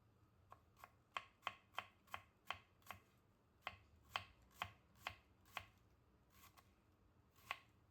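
Knife chopping onion finely on a board, a run of crisp, evenly spaced taps, close and clear, pausing briefly midway before the rhythm resumes, with no voices.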